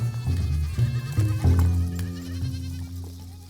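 Goats kept by a settled Nama herder in the southern African dry country bleat in a few loud, wavering calls that come close together. The calls are near and clear, with no talk over them.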